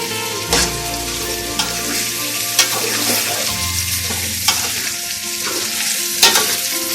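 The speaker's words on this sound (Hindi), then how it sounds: "लहसुन डाल दीजिए, अदरक डाल दी" Garlic and ginger hit hot oil in a pan for a spiced Indian-Pakistani chicken stew, sizzling steadily while a utensil scrapes and clinks against the pan a few times.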